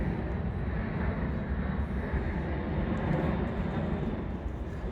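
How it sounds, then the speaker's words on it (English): Steady broadband rumble of an aeroplane passing overhead, continuous and fairly loud throughout with no voices. "that aeroplane"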